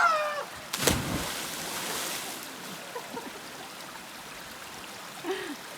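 Water rushes steadily from a tiny pool atop a high waterfall on a trail in Jordan, a continuous close hiss broken by one sharp knock near the start and faint rustles later.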